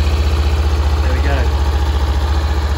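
Honda CBR500R motorcycle, a 2021 model, idling with the baffle left in its exhaust: a steady, even low thrum with a regular pulsing beat throughout, close by, while someone speaks over it.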